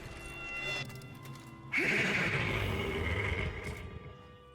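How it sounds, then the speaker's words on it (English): A horse whinnies loudly and close, a sudden bright neigh bursting in partway through and trailing off over a couple of seconds, after quieter muffled rustling. "The horse demands more from you."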